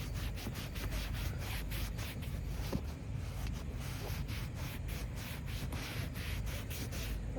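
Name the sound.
cloth wiping ventilated car seat with 3M cleaner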